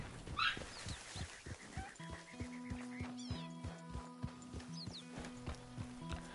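Dogs barking in the video game Red Dead Redemption, a few quiet yelps over a steady rhythmic clip-clop of horse hooves and low game background sounds, with no voices.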